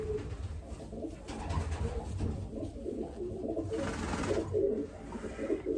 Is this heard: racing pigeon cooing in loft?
yes